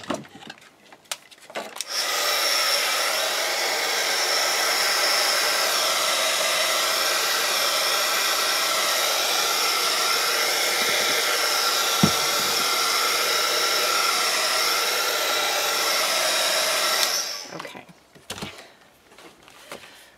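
A hair dryer blows steadily over fresh watercolor paint on paper, a loud continuous whooshing hum that switches on after a couple of seconds and cuts off near the end, with faint handling noises around it.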